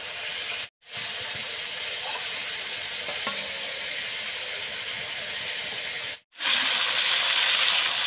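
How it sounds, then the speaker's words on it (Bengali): Cauliflower and potatoes frying with a poured-in paste of chili and turmeric powder mixed in water, a steady loud sizzle and hiss with stirring, briefly cut twice and flaring brighter after the second break. "এবার আমি লঙ্কার গুঁড়ো আর হলুদ গুঁড়ো একসঙ্গে জলে গুলে দিয়ে দিব।"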